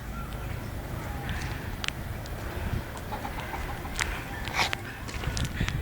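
Chickens clucking faintly in the background amid outdoor ambient noise, with a few short, sharper calls scattered through.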